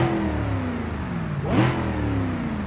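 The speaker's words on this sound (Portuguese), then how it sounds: "eu vou fazer um upgrade agora desse motor. Escutem bem o barulho dele." A 6.9-litre turbocharged V8 car engine in the BeamNG.Drive driving game revs steadily, its pitch falling then sweeping sharply upward in a loud, close burst before settling into a sustained drone.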